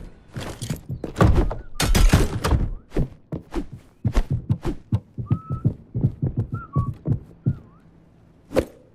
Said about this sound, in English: Why is everyone whistling?